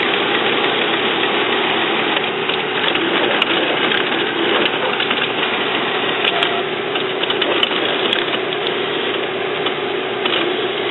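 An HP Officejet 7000 printer runs its test cycle, its carriage shuttling back and forth in a steady, continuous mechanical whir with faint clicks, close and loud, with no talking.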